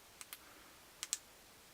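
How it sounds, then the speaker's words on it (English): Four quiet, crisp clicks of an Olight i3T flashlight tail switch in two pairs with a pause between them, close and sharp against near silence. "Nice firm click on the tail switch there"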